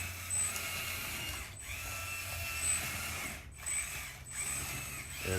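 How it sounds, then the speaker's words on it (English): Small drone motor, filed down and driving the slew of a radio-controlled model excavator, whirring in repeated bursts with ratcheting gear noise, fairly close and steady between brief pauses. "filed down another drone motor and put in there to control the slew"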